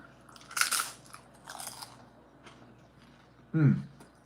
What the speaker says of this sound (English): Now that's some crunch right there.